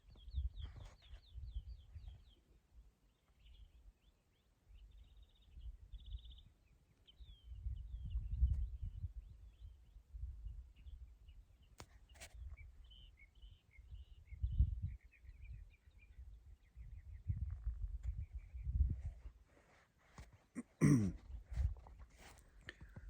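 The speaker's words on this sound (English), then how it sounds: "Can you hear the birds right now? Listen to this." Scattered bird chirps and short calls drift in from a distance over low rumbling outdoor noise, with occasional sharper tweets.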